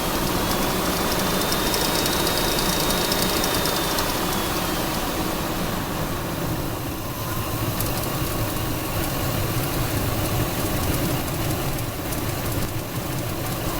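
A 2000 Ford F-150 engine idles steadily and close by, a continuous broadband drone with a faint thin whine from a suspected idler or pulley bearing riding above it for the first few seconds.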